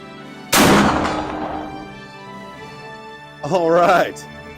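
A Pedersoli Jaeger muzzleloading rifle fires one loud, sharp shot with a long decaying boom, followed by someone speaking briefly.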